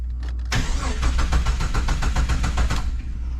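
A Jeep 4.0 engine cranks with a rapid, even starter chug for about two seconds, then catches and settles into a steady idle. The sound is close and loud, with no voices.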